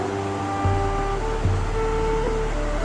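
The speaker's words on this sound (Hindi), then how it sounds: "तो आई गेस ये ग्लेशियर का पानी है पूरा" Glacier meltwater pours along a mountain stream near Pulga in Himachal, a constant broadband rush at steady loudness with a couple of dull thumps mixed in.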